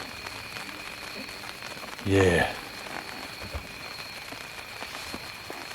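Steady rain falls in the woods at night, a soft continuous patter throughout, with someone briefly speaking a single word over it.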